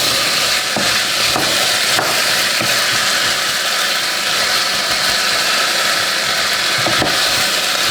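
Ingredients for asparagus soup fry in a pan with a loud, continuous sizzle that fills the whole stretch, broken by a few faint clicks of stirring.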